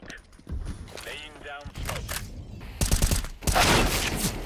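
Pistol fire in CS:GO from dual Berettas around a corner: sharp rapid shots in a quick burst, with a louder cluster near the end and talk over the top.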